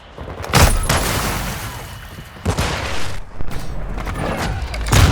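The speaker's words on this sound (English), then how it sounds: "Friendly cruise missile inbound." Heavy booms and rattling bursts of gunfire in Call of Duty Modern Warfare 2 as a friendly cruise missile strikes, loud blasts recurring several times with rumbling tails between them.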